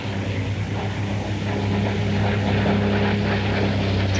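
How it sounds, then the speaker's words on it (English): A Super Corsair unlimited propeller racing airplane with inverted gull wings, at the 1990 Sherman-Denison, Texas air race, gives a loud, steady, rumbling propeller drone that swells slightly as it passes. "Here comes the Super Corsair. You can see those inverted gull wings from a long ways away."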